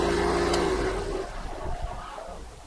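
Car engine with a cylinder misfire being switched off, a steady running drone fading and breaking up into rough low chugging as it winds down to a stop, close and fairly loud.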